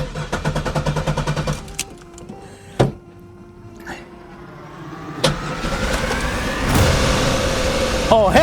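A 1999 Camaro with a newly replaced fuel pump cranks in rapid rhythmic pulses, falls quiet with a few sharp clunks, then catches and fires into a rough, rising idle that holds loud and close to the end.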